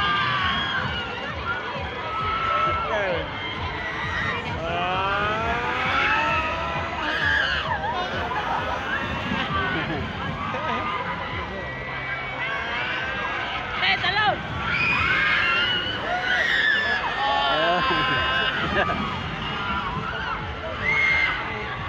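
Crowd of riders screams and shrieks continuously on a swinging basin-like ride at Enchanted Kingdom, Sta. Rosa, Laguna, a loud, dense wall of overlapping screams rising in waves, with laughter mixed in.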